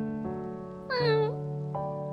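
A cat meows several times outdoors during rain, with one louder, higher meow in the middle and softer calls before and after, heard close by with no speech.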